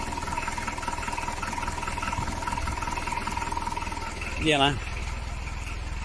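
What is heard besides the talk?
Citroen BX engine idling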